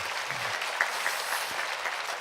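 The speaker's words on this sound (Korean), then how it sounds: "우리 박수로 한번 격려하겠습니다." Applause from a church congregation at a Wednesday daytime service in a Korean Baptist church, a steady even patter of many hands heard at a moderate distance with no talk.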